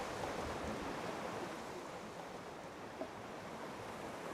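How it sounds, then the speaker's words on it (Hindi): Ocean waves wash steadily onto a sea shore, a continuous broadband rush of surf with little variation, fairly close and alone with no voices. "ये खामोशी, ये सुकून, ये लहरों की आवाजें।"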